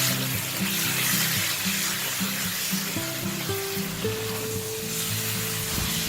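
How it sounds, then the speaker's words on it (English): Chicken pieces and spring onion stir-fry in a wok for oyster sauce chicken, with a loud, steady sizzle and crackle and occasional scraping of the utensil throughout. "I'm adding the chicken pieces into the wok now and stir frying all the ingredients."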